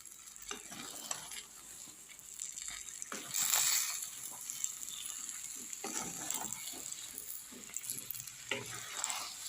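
Jujube (kul) pickle stirred in a pan as it cooks, a steady low sizzle with repeated scraping stirs and occasional clinks of the spoon, close and continuous, with a louder burst of bubbling partway through.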